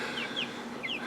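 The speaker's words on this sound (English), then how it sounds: "And these are Cornish rock crosses." Young Cornish Cross meat chicks in a heated brooder box give two quick, high-pitched peeps over a steady low background hum, close by and without speech.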